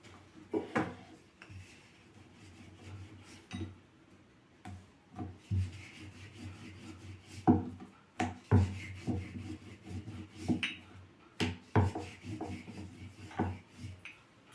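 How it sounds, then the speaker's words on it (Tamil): Chapati dough rolled out by hand on a board, producing soft repeated rubbing and rolling strokes with light wooden knocks, close and fairly quiet, with no talking. "இப்போ அந்த சப்பாத்தி எப்படி தேய்ச்சி எப்படி ரெடி பண்ணணுங்கிறது காட்டுறேன்"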